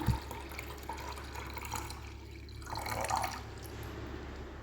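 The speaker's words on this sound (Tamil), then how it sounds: "இப்போது வாணல் நல்லா காஞ்சிருச்சு, இதில் நம்ம பாலை ஊற்றிடலாம்." Milk poured into a heated pan for making palkova gives a soft, continuous liquid splashing and trickling close by, quiet overall, with a small drip near the start.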